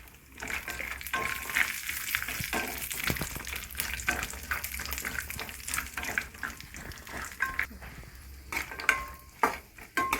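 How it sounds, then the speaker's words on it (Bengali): Dry fruits frying in ghee for laddu, a steady close crackle and sizzle with occasional stirring clinks over a continuous hiss, no talking. "ঘিটা দিয়েই আমি এগুলোকে সব ভাজবো, ড্রাই ফ্রুটসগুলোকে সব ভাজবো"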